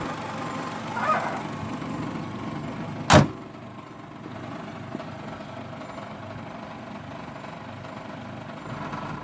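A 2000 Renault Twingo with a 5-speed manual idles steadily and evenly close by, a low continuous hum broken once by a single sharp slam, like a car door shutting, early on; no one speaks.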